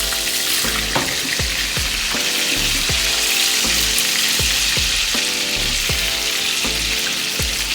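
A rib eye steak sizzles loudly in a hot pan as it is basted, a dense continuous crackle punctuated by regular spoon scrapes and splashes of fat.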